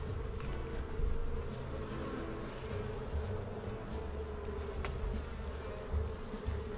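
Honey bees from a captured early-season swarm buzz in a dense, continuous drone close by, with no voices over it.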